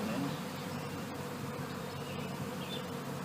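A dense swarm of honeybees hums steadily around an opened, thriving hive in spring, a close, continuous buzz with individual bees flying past.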